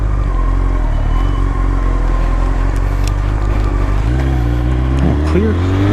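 A Honda CBR954RR FireBlade motorcycle rumbles loudly at close range through a U-turn, its engine note dipping and then rising as the throttle opens near the end, with wind noise and speech mixed in.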